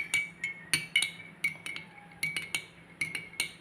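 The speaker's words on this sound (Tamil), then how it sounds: "நான் இப்போ தேங்காய் பால் வந்து இதுக்கு குறைக்கி நல்லா ஊற்றிட்டு நல்லா கலக்கிடணும்." A spoon stirs coconut milk into black kavuni rice porridge in a glass, giving a run of bright, ringing clinks against the sides in a quick uneven rhythm, close up and alone.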